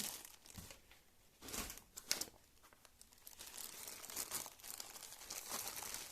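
A five-motor massage belt taken out of its box and zippered plastic bag: quiet crinkling and rustling of packaging in uneven bursts, with a sharper crackle near the start.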